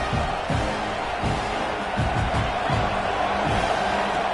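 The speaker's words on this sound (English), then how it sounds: "here comes the noise. This crowd is trying to inspire this defense to make a big red zone stop." A stadium crowd at a Kentucky football game roars in a steady, dense wash of cheering, with rhythmic low thumps and swells throughout, as fans push a defense for a red zone stop.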